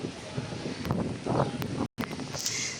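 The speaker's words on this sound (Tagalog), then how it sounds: "Oh, malakas ang hangin." Strong wind buffets the microphone in a steady roaring rush with gusty swells and a brief dropout.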